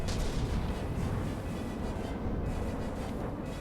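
Missiles striking targets in From the Depths, heard as a dense, continuous rumbling barrage of overlapping blasts with no clear gaps, loud and steady throughout.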